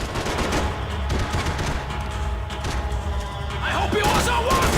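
Dense gunfire from the video game Max Payne 3, loud continuous bursts of shots and crashing impacts under a speaking voice, thickening toward the end.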